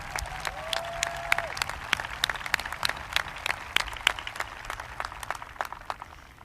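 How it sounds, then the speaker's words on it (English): Audience applause at a 2021 Jonathan Alder High School commencement, a steady wash of many hands clapping in an outdoor stadium setting, dense and sustained at moderate distance with no talk over it. "we can clap for that."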